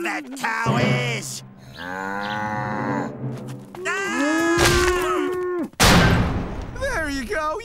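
Cartoon cow lowing in a pasture, several long drawn-out moos with sliding pitch mixed with animated voices and exclamations, loud and close, ending in a sharp thump.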